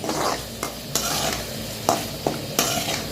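Mutton with green cashews frying and being stirred in a pan, with a steady sizzle and several sharp scraping stir strokes at irregular intervals, close and loud.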